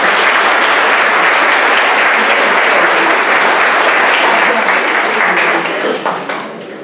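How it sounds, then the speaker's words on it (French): An audience at a French-language conference applauds, a loud, sustained wash of many hands clapping together that holds steady for several seconds before thinning out and fading at the end. "on peut applaudir."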